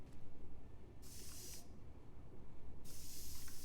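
Repair spray hisses onto cargo in Death Stranding 2, two short bright bursts of spray separated by a pause, over a steady rhythmic low game background hum.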